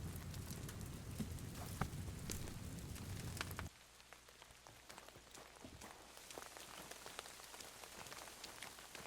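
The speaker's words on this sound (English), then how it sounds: "Raining." Rain falling in Kingdom Come: Deliverance II, a steady hiss of drops that is heavy and close at first, then drops abruptly to a lighter, quieter patter with scattered drips.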